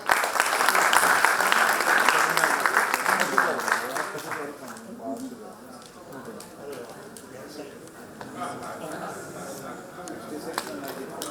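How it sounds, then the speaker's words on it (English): A seminar audience gives a lucky draw winner a round of applause; brisk clapping for about four seconds fades into quieter murmuring and talk. "So here is the first winner with a great round of applause."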